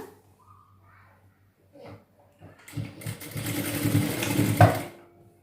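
A sewing machine stitches the seam of a chudidhar top, starting after some quiet handling and then running as a steady mechanical whir that builds toward the end, with a voice heard briefly early on.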